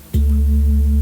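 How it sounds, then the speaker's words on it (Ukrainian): A struck singing bowl rings out with a sudden onset, then a steady, pure humming tone sustains evenly without fading. "звук чаші"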